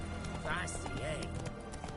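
Roach, the horse in The Witcher 3 video game, gallops with steady clip-clop hoofbeats and a brief whinny, heard under ongoing game dialogue and background voices.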